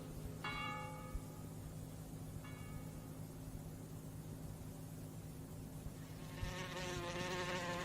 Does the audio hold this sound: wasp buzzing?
yes